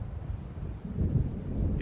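Low rolling thunder from an approaching storm in the Alan Wake Remastered video game, a deep rumble that swells slightly and carries on under a faint windy wash.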